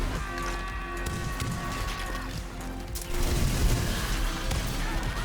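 Rapid gunshots and fiery bursts from the Firestorm Revolver in Rage 2, with dense crackling and booming combat noise sustained throughout and swelling louder toward the end.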